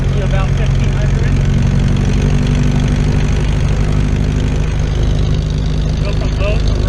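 The engine of the small aircraft N4168 runs up to about 1500 RPM during a pre-flight check, giving a loud, steady, close droning hum with a constant pitch throughout, with no talking.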